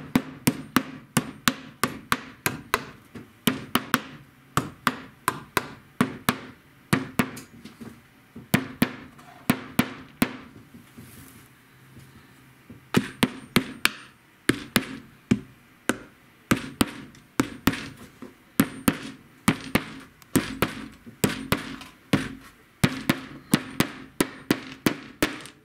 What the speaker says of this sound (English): Grab the hammer, start pulling them down.